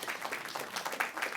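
An audience at a storytelling show during Boston Fashion Week GlamSlam gives a short burst of faint, scattered clapping.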